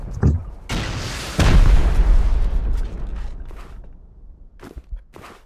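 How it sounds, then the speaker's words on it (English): A rocket fires during a raid in a survival video game, a sharp launch followed by a heavy rumbling boom that rolls on and fades, then scattered thumps and clicks, loud and close. "Now I'm gonna send a rocket."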